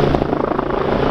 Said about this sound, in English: Do aerobatics in a helicopter